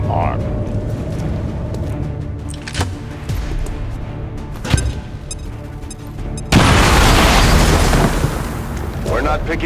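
A bomb goes off in the video game XCOM 2 War of the Chosen, with scattered bangs and thuds first, then a sudden loud, broad blast that roars on for several seconds, mixed with voices in the game.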